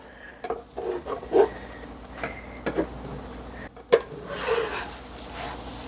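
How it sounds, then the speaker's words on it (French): A thin crêpe cooks in a hot pan while a spatula works under its edge to loosen it, giving a soft continuous sizzle broken by a few sharp scrapes and clinks of metal on the pan. "Maintenant que ma crêpe elle est un peu cuite, en dessous, je vais venir la décoller."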